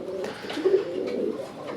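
Local pigeons, Raj Golla and Churi Moja breeds, coo softly and repeatedly, a low warbling murmur close by and steady throughout.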